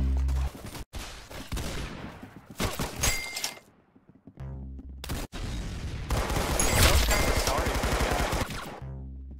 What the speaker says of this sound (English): That's some beautiful shooting right there